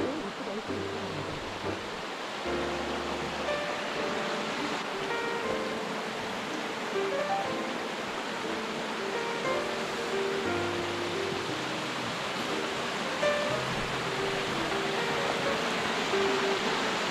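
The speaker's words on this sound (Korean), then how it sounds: "출사지로 유명한 이끼 폭포입니다." Steady broadband rush of falling water at a moss waterfall in Gurye, South Korea, continuous and fairly loud throughout, with faint low tonal hum patches beneath.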